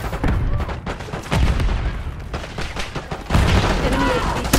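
Continuous Call of Duty gunfire in rapid overlapping bursts and booms, loud and dense throughout, with faint game voices mixed beneath the shooting.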